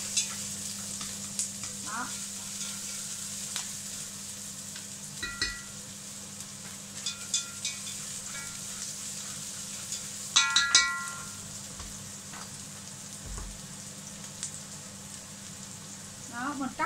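Kitchen exhaust hood running above a stovetop while greens and onions fry in a pan for kale, a steady broadband hum and hiss under crackling sizzle and occasional stirring clinks, with a few brief words spoken.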